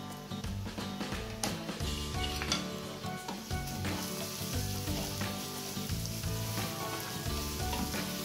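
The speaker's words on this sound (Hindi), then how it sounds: "हमने फ्राइंग पैन में 1 टीस्पून ऑयल, 1 टीस्पून जीरा ऐड किया है" Cumin seeds and chilies frying in a teaspoon of oil in a frying pan, a steady dense sizzle with crackling pops and occasional stirring clinks throughout.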